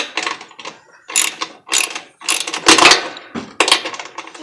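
A ratchet tightens brake light fasteners on a trailer, producing loud, close bursts of rapid clicking separated by brief pauses.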